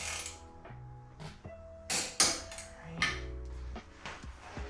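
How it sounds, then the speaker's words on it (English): Torque wrench tightening tow hitch bolts on a Tesla Model 3 to about 50 foot-pounds, heard as a few sharp ratcheting clicks and metallic clunks, close and moderately loud, with no voice over them. "So let's torque these up."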